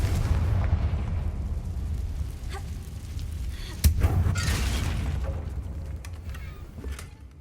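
The Confringo blast spell in Hogwarts Legacy sets off a sharp burst and booming explosions, followed by crackling debris and rumbling aftermath, loud with no talking.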